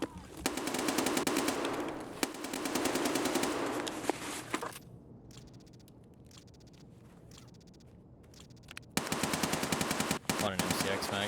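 Rapid automatic gunfire from an MCX rifle in a first-person shooter game, with dense bursts of loud shots, a quieter stretch broken by scattered single shots, and then another burst of fire.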